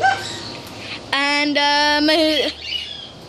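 Pet birds squawking close by, a loud harmonic call held for more than a second with a brief chirp before and after, while a voice speaks briefly.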